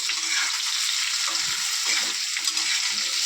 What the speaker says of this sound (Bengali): এখন আবার তেলে ভেজে নিচ্ছি